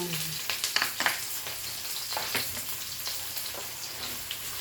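Chicken with ginger, garlic and onion sizzling steadily in a pan, a continuous bright crackle with scattered louder pops and stirring clatter, close and alone.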